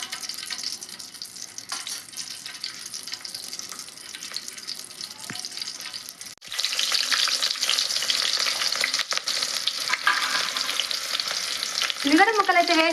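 Chopped onions hit hot oil in a pan for a drumstick chicken curry, the sizzle jumping louder midway and then frying steadily with occasional stirring clinks, close and without talk.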